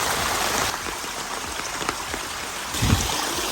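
Steady rain patters on surfaces nearby while walking around Inuyama, Japan, a continuous hiss of drops with a few louder splashes.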